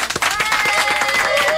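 Brief applause for a 16-year-old radio show guest, a patter of hand claps in a studio, fairly loud with some talking voices over it.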